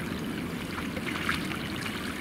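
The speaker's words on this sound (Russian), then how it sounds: "Тут ручей какой-то, талый." A small snowmelt stream trickles and gurgles steadily in spring mountain terrain, a soft continuous babble heard close with no talking.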